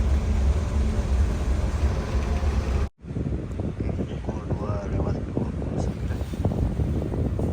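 A ferry pulls slowly away from Ketapang harbour. A steady low engine rumble and wind noise fill the whole stretch, with a brief cut partway through. A person talks over the drone.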